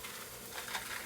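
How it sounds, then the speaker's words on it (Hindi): Spices sizzling in hot oil in a pan, a tempering for pasta in a home kitchen, a steady close crackle and hiss that carries on without a break. "मम्मा भी छौंक लगा रही है।"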